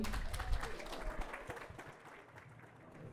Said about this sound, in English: please have a massive round of applause for Sylvester McCoy